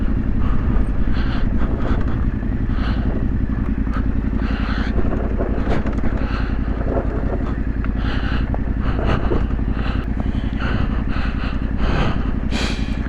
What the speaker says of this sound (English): Just keep the bike moving enough that you can bounce yourself over the rocks